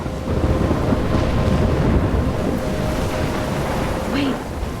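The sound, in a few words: storm in the video game Life is Strange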